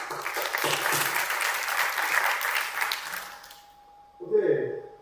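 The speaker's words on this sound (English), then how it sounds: "Let's give a applause to all of you" A conference audience in Bled, Slovenia, applauds with dense, steady clapping that fades out after about three and a half seconds, followed by a brief voice.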